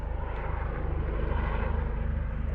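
A helicopter flies overhead during a weekend mountain bike ride on a canyon loop, its steady rotor drone close and loud for a few seconds with no talking.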